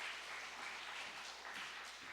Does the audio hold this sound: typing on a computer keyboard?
no